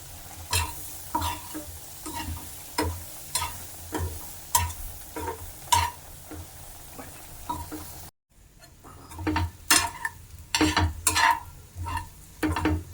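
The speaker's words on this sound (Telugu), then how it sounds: "ఇలా ఉల్లిగడ్డలు జర మగ్గిన దాకా ఉంచుకోవాలండి." Onions fry in a pan for a spicy chicken hearts fry, a steady sizzle broken by regular scraping stirs. After a short pause, louder clanking stirs follow.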